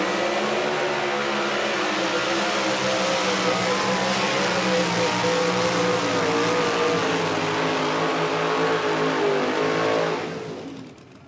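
Forever Hooked, a super modified two-wheel-drive pulling truck, roars at full sustained revs for about ten seconds at a night truck pull, loud and steady, then cuts off abruptly near the end.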